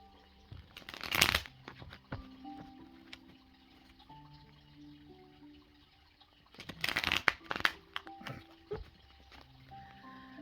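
A deck of tarot cards is shuffled close by in two distinct bursts of riffling and flapping, with quiet tapping and faint tonal background between them.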